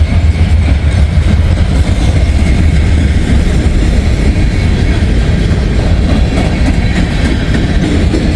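A short BNSF freight train of about 320 axles rolls past close by on a spring day, a loud continuous rumble with rhythmic clickety-clack of wheels over rail joints and no talk.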